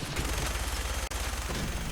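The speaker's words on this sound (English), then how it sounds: "gunshots" Gunfire from the video game Fallout 4 forms a dense, continuous rattle of rapid shots, loud and sustained throughout with only a brief gap.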